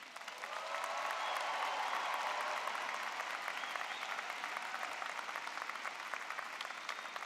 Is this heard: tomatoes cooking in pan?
no